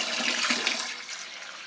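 Cans of cold water are poured into a batch of elderberry wine must, a close, splashing gush that is strongest at first and then tapers off.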